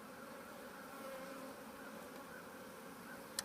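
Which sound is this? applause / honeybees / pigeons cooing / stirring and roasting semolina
honeybees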